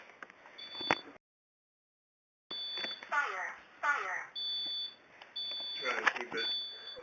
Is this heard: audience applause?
no